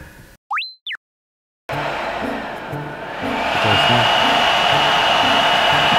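A Suiden portable mini air conditioner for car camping runs in powerful mode inside a kei car camper. A short electronic chirp gives way to a loud, steady fan roar that swells stronger partway through.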